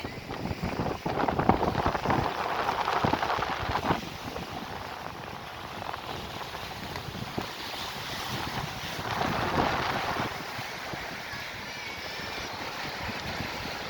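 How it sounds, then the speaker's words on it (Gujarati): Sea waves rolling in at Devka beach, a black-sand shore: a continuous wash of surf with two swelling surges, mixed with heavy wind buffeting the microphone. "પાણીની લહેરો આવી રહી છે."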